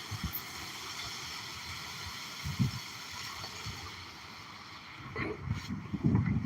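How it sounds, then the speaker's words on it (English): Strong storm gusts of 30 to 40 miles per hour, with tornado and hurricane-force winds around, roar as a steady broadband rush that swells into louder buffeting bursts near the end, with no talk. "We getting 30, 40 mile per hour gusts."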